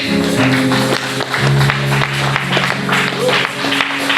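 A church crowd at a prophetic revival service cheers and applauds loudly and steadily, with sustained voices and music tones layered over the clapping throughout.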